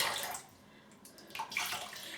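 A 24 mm shaving brush dipped into water in a basin, brief splashing and trickling at the start, a quiet pause, then another burst of sloshing water close by.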